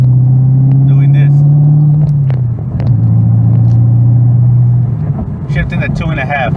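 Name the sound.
cammed Chevrolet Camaro engine while driving and shifting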